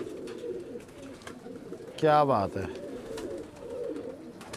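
Pigeons coo in one short, resonant burst midway, with someone speaking briefly nearby against a soft background of other low bird sounds.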